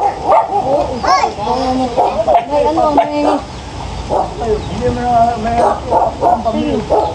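Several dogs bark and yip in quick, uneven bursts close by, with voices talking over and between the barks.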